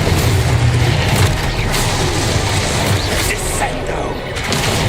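An Expulso blasting spell in the Hogwarts Legacy video game bursts out amid a dense, continuous wash of loud game combat noise and rumbling blasts, with a voice speaking over the action.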